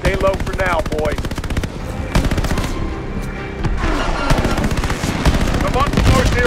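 Dense rapid machine-gun fire and scattered gunshots in Call of Duty Vanguard campaign combat, loud and close with continuous rattling bursts and brief pauses, with voices shouting underneath.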